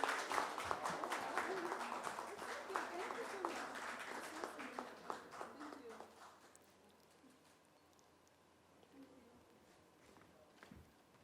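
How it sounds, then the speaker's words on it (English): An audience applauds at an event with actress Disha Patani, giving dense, fairly quiet clapping that lasts several seconds, then thins out to scattered claps and faint background sounds. "Ladies and gentlemen, please put our hands together for this show."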